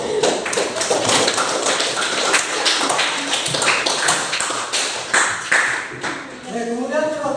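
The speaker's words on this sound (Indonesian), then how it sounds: "Tepuk tangan teman-teman." Classmates clap their hands together in a classroom, a dense run of sharp, close claps lasting several seconds before fading, with a voice speaking briefly at the end.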